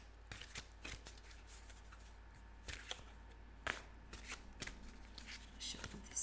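Tarot cards being shuffled and handled at close range, with a run of crisp riffles and slaps in uneven bursts over a quiet room.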